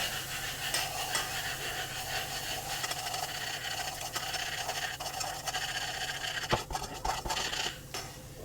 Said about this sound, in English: I'll mix that in and just mix it around and let that fry for a few moments as well